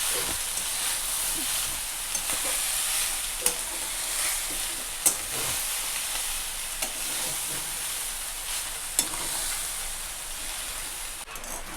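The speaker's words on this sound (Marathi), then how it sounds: "आता नंतरही छान असा भात मिक्स करून घेते" Leftover cooked rice stirred with salt and chopped coriander in a hot pan, a steady sizzle with scraping spoon strokes at irregular intervals, close and alone without talk.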